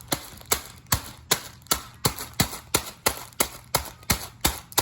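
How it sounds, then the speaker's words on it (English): Food sealed in a bag is pounded into crumbs with a steady run of sharp, evenly spaced thumps, about three per second, close and loud with no talking. "Just pound it until you feel it's mainly crumbs."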